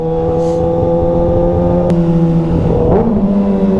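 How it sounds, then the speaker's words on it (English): Kawasaki ZX6 motorcycle with an M4 exhaust riding under a bridge, engine droning loud and close, then a quick downshift drops and bends the pitch with a sharp blip near the end. "that spicy downshift under the bridge"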